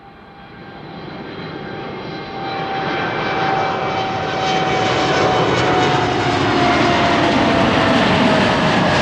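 A TUI passenger jet passes at Amsterdam Schiphol Airport, with engine roar and tonal whine building from moderate to loud and staying strong as it goes by. No one is speaking.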